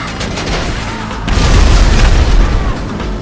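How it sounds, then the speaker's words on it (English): Missiles fired from Deluxo flying cars in GTA Online's Diamond Casino Heist explode in loud, deep booms, with one blast rolling into a heavier, sustained rumble that swells and then slowly fades. "The Deluxos have been fitted with missiles. You can use them to destroy those targets now."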